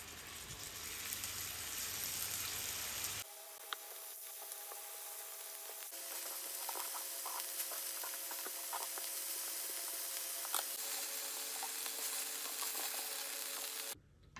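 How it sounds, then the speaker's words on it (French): Ground beef patties (steaks hachés) frying in a hot pan greased with a little fat, a quiet, steady sizzle and hiss that carries on throughout with small crackles, no talking over it. "je viens faire chauffer une poêle avec un peu de matière grasse et on va pouvoir donc faire cuire nos steaks hachés"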